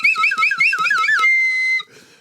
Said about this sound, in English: I can't do too much slide whistle.